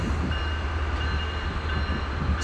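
An Amtrak F125 train moves through Old Town station, giving a steady, loud low rumble with a continuous mechanical hum and high whine from start to finish.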